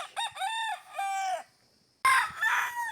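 Roosters at a gamefowl farm's cording area crow loudly and close by, two drawn-out harmonic calls followed after a brief pause by a harsher, noisier crow.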